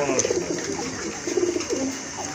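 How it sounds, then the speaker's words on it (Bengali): Pigeons coo in soft, repeated rolling calls close by; the birds are female cream bar pigeons of a mixed domestic and foreign stock kept for sale. "এখানে কিন্তু দুইটা মাদি কবুতর আছে, শোকিং এর মাদি"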